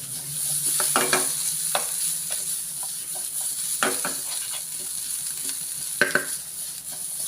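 Potatoes fry in a pan with turmeric and are stirred, giving a steady sizzle with spoon scrapes and clatter at a few points, close and alone, with no talk.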